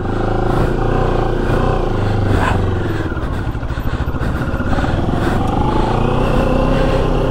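Moto Morini X-Cape 650cc adventure motorcycle rides with a loud, continuous engine drone and clattering mechanical noise, close and steady throughout.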